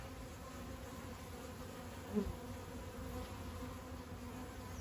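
Honeybees drone steadily around an opened hive during a summer inspection, a dense continuous buzz close by with no talking.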